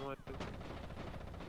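FNC automatic rifle firing in Rainbow Six Vegas 2, a rapid burst of rattling gunfire heard close and loud after a brief tonal game sound.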